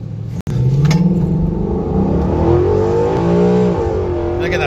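A 2013 Ford Mustang GT with a 6R80 automatic launches hard in hot weather, its engine note rising steadily in a loud, close revving roar after a brief cut at the start.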